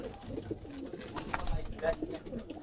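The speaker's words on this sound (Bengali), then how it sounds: "এটা হলো মাকড়া কবুতর।" Domestic pigeons, including a makra pigeon, give low, soft cooing calls in repeated bursts nearby, with a faint voice in the background.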